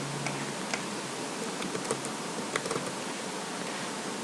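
Keys clatter on a computer keyboard as a file name is typed, a soft irregular run of clicks over a steady hiss, close and without talk.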